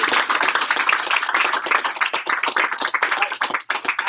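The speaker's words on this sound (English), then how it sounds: "give him a big round of applause" A small office audience claps for a top sales representative, a close, uneven round of individual hand claps with sharp separate strikes.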